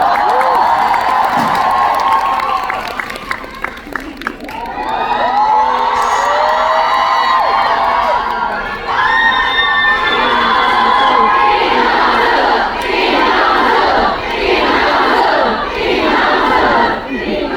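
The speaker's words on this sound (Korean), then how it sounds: "이 환호성이 그리울 거예요." Concert crowd at a Closed Beta concert cheering and screaming loudly and continuously, with swelling high-pitched shrieks and rhythmic waves of chanting toward the end.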